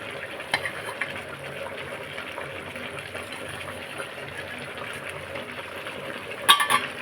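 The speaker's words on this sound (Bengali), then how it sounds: "ভেজে রাখা লাল আলুগুলো দিয়ে দিচ্ছি।" Fried red hill potatoes tumbling into chicken cooking in a pan, with a steady low sizzle and some stirring throughout, then a sharp clatter of a utensil near the end.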